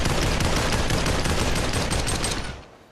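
A gun firing at a target in the VR shooter Population One: a dense, rapid burst of shots, loud and close, holding steady for over two seconds before tailing off.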